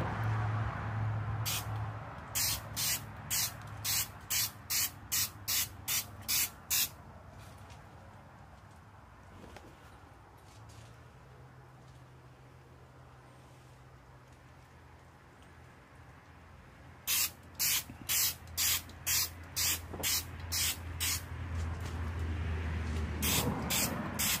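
Clear coat is spray-painted onto the wing of a Mazda RX7, a steady hiss of spraying broken by bursts of rapid rhythmic clicks, with a low hum in the background.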